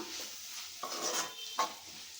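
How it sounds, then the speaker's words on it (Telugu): Spoon stirring moong dal in a pan with oil, soft scraping with a couple of sharper clinks against the pan, close and moderately quiet, no voices. "పెసరపప్పును వేసుకున్నాక కలుపుకోవాలి"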